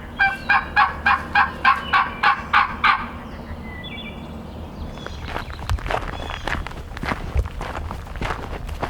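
A wild turkey gobbler gobbles in a fast rattling burst, fairly close, in a wooded bottom on Pennsylvania public land, followed by rustling footsteps through leaves and brush.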